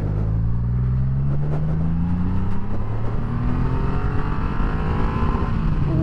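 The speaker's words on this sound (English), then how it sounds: "Oh, the old exhaust is popping away there." Triumph Rocket 3 GT motorcycle riding along with a steady engine drone and rising pitch, the exhaust crackling and popping faintly under the close rumble and wind.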